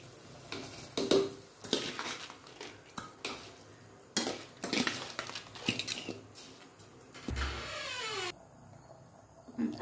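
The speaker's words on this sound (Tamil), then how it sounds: "அரிசி ஆட் பண்ணிவிட்டு நான் அப்படியே லைட்டாக கிளறி விட்டுட்டேன்" A spoon stirs soaked rice into a simmering pot of mushroom biryani, scraping and clinking against the metal pot in repeated close strokes, with a soft bubbling sizzle beneath.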